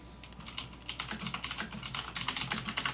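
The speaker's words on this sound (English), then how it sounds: "Sorry, just typing." Rapid, irregular clatter of keys being typed on a computer keyboard, close and fairly quiet, with steady key strikes continuing throughout and no voices.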